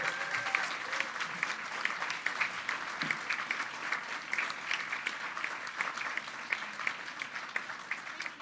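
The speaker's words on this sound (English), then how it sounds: "can we give our Silver Club members a big, big, big round of applause?" A crowd claps steadily and continuously at a business breakfast event, a dense patter of applause at moderate distance, sustained throughout without pause.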